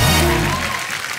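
A studio audience bursts into loud applause on a comedy talk show, a dense clatter of clapping that starts strong and tapers off quickly.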